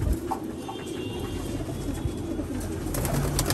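Giribaz pigeons cooing softly in a loft, low continuous murmuring calls over a steady background hum, with no talking.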